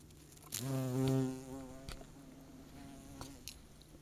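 Bees buzz around hogweed flowers; one loud, close pass with a strong harmonic drone rises and fades over about a second, followed by fainter, more distant buzzing and a few soft clicks.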